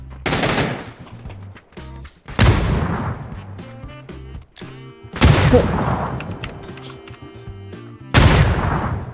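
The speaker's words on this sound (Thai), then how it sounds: "ระเบิดนะ" Explosions and heavy gunfire from the battle royale game PUBG come in several loud, separate bursts, each a sharp boom with rattling, crackling decay, separated by short quieter gaps.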